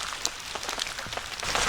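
Light drizzle patters at a campsite in French Creek State Park, Pennsylvania, a soft, close, irregular ticking of droplets with a few sharper taps landing on nearby surfaces.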